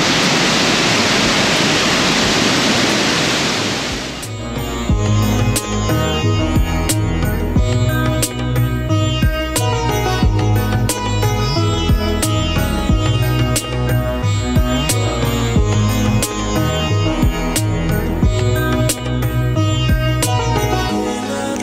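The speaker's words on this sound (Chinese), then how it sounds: "这个就是陆路瀑布哦" Lulu waterfall in Reel Canyon, Taitung, gives a loud, steady roar of rushing water for a few seconds before rhythmic music takes over for the rest.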